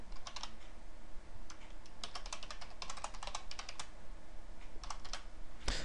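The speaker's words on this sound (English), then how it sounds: "Let me just type this out." Someone types on a computer keyboard in quick, irregular bursts of clicking keystrokes, fairly close and quiet, with short pauses between runs and no talking.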